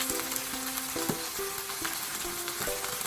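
Steady sizzling of dried pollock (kodari) frying in a pan, a dense crackling hiss with a few utensil clinks and scrapes, close up and fairly loud.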